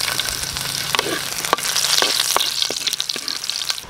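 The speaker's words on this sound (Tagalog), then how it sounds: "magigisa na tayo ng bawang" Garlic sautéing in a hot pan gives a steady, bright sizzle with repeated crisp stirring scrapes and taps throughout, close and fairly loud, with no talking.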